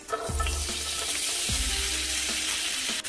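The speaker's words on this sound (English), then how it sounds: "Now I'm gonna add my al dente pastas" Al dente pasta frying in an oiled pan over medium heat, a steady close sizzle with a few stirring scrapes and clacks throughout.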